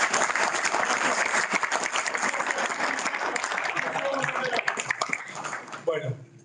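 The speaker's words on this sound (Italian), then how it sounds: "Un applauso per la gente" Audience applause from a group of engineering students at a university meeting, dense steady clapping that fills the room for about six seconds before thinning out at the end.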